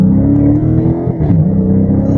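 A 2015 Dodge Charger Scat Pack's V8 growls as it accelerates, a deep, loud rumbling drone that rises and dips with throttle, heard from inside the car.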